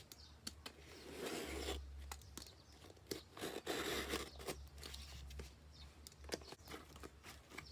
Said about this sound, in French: Nous allons la déballer ensemble.